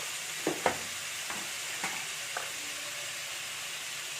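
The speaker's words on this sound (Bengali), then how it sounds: "এবার এই আলুগুলো দিয়ে দিচ্ছি কোড়ার মধ্যে এগুলো লাড়তে লাড়তে আমার ভাজা হয়ে যাবে" Potatoes stirred and fried in a wok, giving a low steady sizzle with a few soft scraping stirs near the start.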